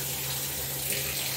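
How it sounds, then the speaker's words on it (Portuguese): Steady rush of water pouring from a broken faucet into a sink, a constant even stream with a low hum underneath and no voices. "Minha torneira é quebrada."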